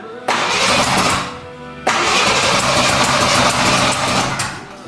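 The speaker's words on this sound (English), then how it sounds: "You can crank it over. If it starts, let it run for like 3 seconds and then turn it off again." Square Body Ford Ranger engine cranking over after reassembly, a short burst of starter whirring, a brief pause, then a second longer crank that catches into a loud, close, rough running engine before easing off.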